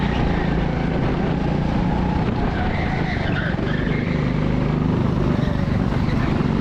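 Go-karts race around an outdoor track, a close, steady engine drone with wavering pitch as the kart is driven hard, running continuously with no talk.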